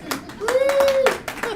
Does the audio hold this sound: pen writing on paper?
no